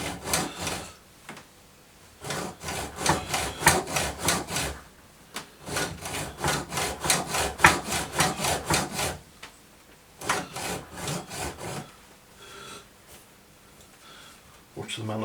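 A hand saw cuts into a part during a Jaguar XJS engine overhaul, near the manifold, with rhythmic back-and-forth strokes in several bursts separated by pauses, close and fairly loud, while someone talks.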